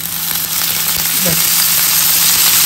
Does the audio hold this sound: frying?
yes